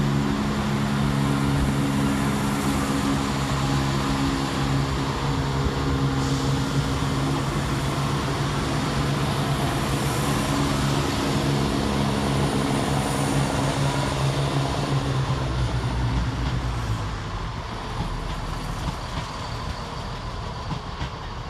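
Chiltern Railways Class 168 diesel units 168108, 168214 and 168328 coupled together thunder through Birmingham Moor Street station, a loud sustained engine roar and rail rumble that holds steady then eases as the train draws away, no talk.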